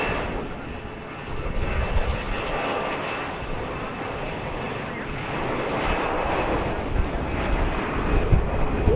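Allegiant airliner taking off at BWI airport, its engine roar steady and broad throughout, with a slight swell toward the end and some wind buffeting the microphone.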